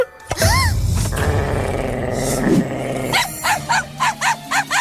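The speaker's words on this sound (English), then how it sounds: "I hate yappy dogs." Yappy dog barking in an animated cartoon, a growly snarl first, then a quick series of five or six sharp, evenly spaced yaps, loud and close.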